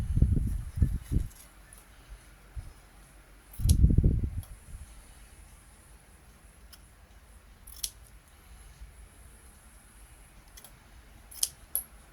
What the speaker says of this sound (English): Not the best scissors to be cutting with these ones,